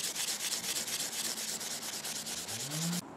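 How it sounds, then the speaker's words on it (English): Sandpaper rubs back and forth over a welded steel surface in quick, even rasping strokes, close and continuous, ending abruptly near the end. "it didn't take much to clean it up with the sandpaper"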